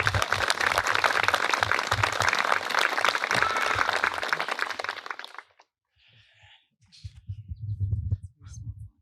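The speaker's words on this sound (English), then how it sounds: "Let's give Susie a round of applause, folks." An audience applauds for Susie at a wedding, a loud, dense burst of clapping for about five seconds that stops abruptly, followed by near silence, a few faint sounds and some low rumbling noise.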